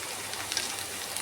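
Sweet corn rice ingredients, including carrot, frying in a pan, giving a steady faint crackling hiss with no clear breaks.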